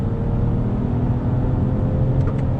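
2019 Toyota Camry V6 sedan in manual mode, shifted with the paddles under throttle; a steady, loud engine drone with a low rumble, heard from inside the cabin, with no clear rev climb.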